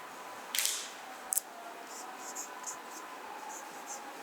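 Marker or chalk strokes on a lecture board, a few brief scratchy bursts followed by fainter short squeaks, quiet and close over low room hiss.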